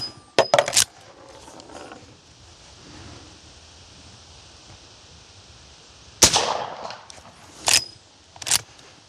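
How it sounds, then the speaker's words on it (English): A Miroku Winchester 1892 lever-action rifle fires 45 Colt +P rounds at a steel plate 100 yards away outdoors: a sharp close report, later another shot and a couple of metallic clacks, with faint wind between. "I am shooting at 100 yards"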